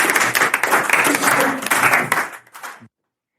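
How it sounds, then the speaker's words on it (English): Audience applause at a school-stories event, dense and steady clapping for about two and a half seconds before tapering off and stopping abruptly. "Round of applause."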